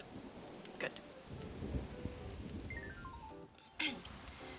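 Thunderstorm weather in the Animal Crossing video game: steady rain patter with rumbling thunder and sharp crack bursts, mixed with light game chimes and brief speech.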